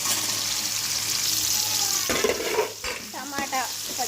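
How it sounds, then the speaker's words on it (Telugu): Tomato, green chili and onion fry in a pan with ginger-garlic paste, a steady close sizzle running throughout while a utensil stirs and scrapes in the second half, with a faint voice in the background. "టమాటా పచ్చిమిర్చి ఉల్లిపాయ అయితే ఒక 2 నిమిషాలు మగ్గిన తర్వాత అల్లం వెల్లుల్లి పేస్ట్ వేసేసుకున్నాం"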